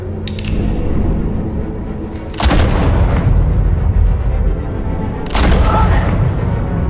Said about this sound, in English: That bullet could have been straight through him